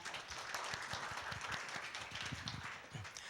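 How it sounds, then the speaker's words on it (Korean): Faint, steady applause from a conference audience greeting the next speaker, many hands clapping at a distance without talk. "여러분 큰 박수로 환영해 주시면 감사하겠습니다"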